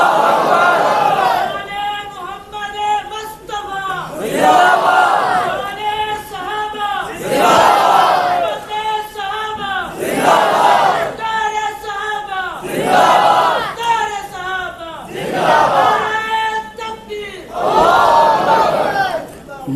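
Crowd at a religious sermon gathering chants slogans in loud, rhythmic unison bursts, repeated call after call across the whole stretch with brief gaps between.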